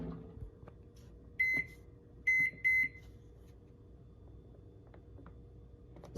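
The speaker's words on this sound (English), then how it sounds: "So now it's ready to go in the microwave. You're going to put it in for 1 minute." A microwave oven hums steadily while heating mug batter for one minute, faint and close, broken by three loud electronic beeps, one short and then two in quick succession.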